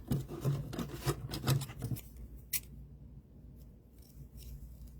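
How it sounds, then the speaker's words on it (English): Scissors snip through doll hair in a quick run of close, crisp cuts for about two seconds, followed by quieter rustling and handling sounds. "we can put this right along her hair"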